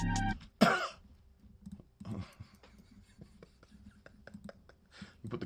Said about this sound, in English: let me cough on the track